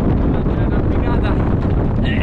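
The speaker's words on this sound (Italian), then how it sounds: "giù c'è un bel vento" Strong wind buffets the microphone on a mountain ridge, a loud, continuous rushing roar through the whole short stretch, with faint voices in the background.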